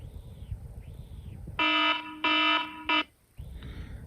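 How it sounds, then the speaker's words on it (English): A loud iPhone 15 Pro alarm ringtone sounds in three bursts, two long and one short, with harmonic ringing over faint background noise before and after. "Alarm."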